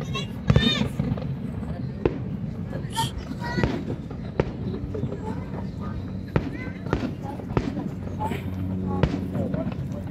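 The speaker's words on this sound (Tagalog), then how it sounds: "Ayan, fireworks dito sa Waikiki." A fireworks display at Waikiki Beach pops and booms in scattered bursts at a distance, under steady crowd chatter and nearby voices.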